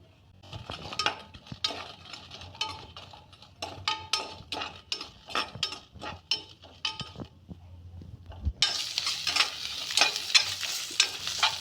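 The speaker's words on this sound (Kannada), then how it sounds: "ಅರ್ಧ ಚಮಚ ಎಣ್ಣೆ ಹಾಕ್ಕೊತಾ ಇದ್ದೀನಿ ಒಂದು ಸ್ವಲ್ಪ ಈರುಳ್ಳಿ" Onion hits a little hot oil in a pan with green chilli nearby, steady scraping and clinking of a spatula over a low sizzle, then a sudden loud bright hiss takes over and continues with stirring strokes.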